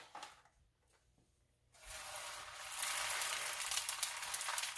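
A quesadilla is laid into a lightly oiled skillet, and after a quiet moment a steady, bright frying sizzle starts up and holds at moderate volume without talk.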